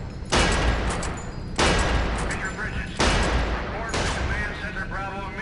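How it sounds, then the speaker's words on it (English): Pistol fire on a firing range in the 2005 PC game Area 51 is heard as four sharp shots spaced about a second apart, each followed by a ringing echo and a trailing clatter. "Step on over to the range and fire off a few shots."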